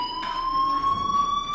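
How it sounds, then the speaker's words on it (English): Fire alarm in the video game Life is Strange: a continuous high electronic tone with steady harmonics, ringing loud and unbroken over a faint room ambience. "Hey, do you hear that fire alarm?"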